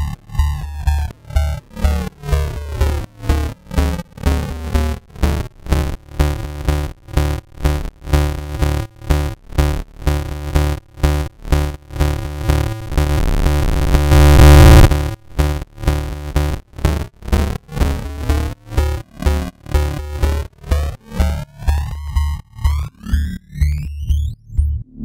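A rhythmic synth pattern is harshly degraded by gritty digital bitcrushing from Ableton Live's Redux effect set to hard mode, with buzzy stepped distortion pulsing steadily throughout, and a sweeping tone near the end.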